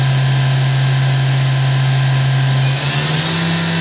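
A Fadal VMC-4020 vertical machining center spindle runs steadily at high speed with a loud, constant whine and airy hiss, its tone shifting slightly upward near the end as the spindle climbs in RPM.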